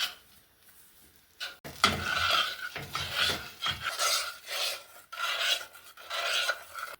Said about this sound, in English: To stir occasionally until this is mixed together.